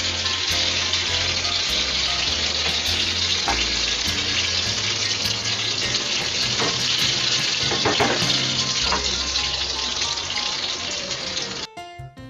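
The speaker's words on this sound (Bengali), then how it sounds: "একটা সাইড উল্টানোর পর এটা আরেকটু ফ্রাই হবে" Mini Moghlai paratha frying in a pan of oil after being flipped, a steady loud sizzle that runs unbroken for most of the clip, then cuts off near the end.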